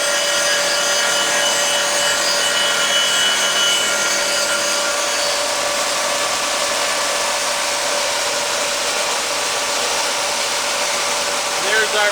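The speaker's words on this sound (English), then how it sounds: "You can hear the grinding head." Grinding head of a CB1500E machine working a block, a steady, loud abrasive whir with a dense broadband hiss that holds evenly throughout, no talk over it.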